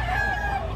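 A rooster at a busy chicken market in Padre Garcia, Batangas, gives a brief, tonal crowing call close by, heard against a dense, loud background of market noise.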